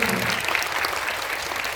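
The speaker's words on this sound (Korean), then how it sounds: "박수 한번 주시죠, 여러분." Audience at a film talk event with director Yeon Sang-ho and actors, a brief burst of loud, dense clapping that continues evenly for a couple of seconds.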